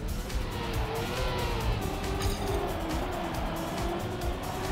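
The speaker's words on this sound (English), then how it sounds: "Skidding out everywhere." Tires skid and squeal in Trackmania, a steady engine roar with a high scrubbing whine that holds through the whole stretch, loud and continuous without a break.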